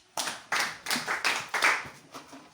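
Students clap in unison, about seven distinct, evenly spaced claps in a steady rhythm, fairly close and crisp, with the last one softer and no talking over them.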